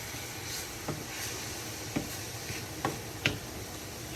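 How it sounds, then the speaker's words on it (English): Intermittent scraping clicks of a spoon stirring sofrito in a pot over a soft, steady sizzle, with no talking. "Keep stirring it."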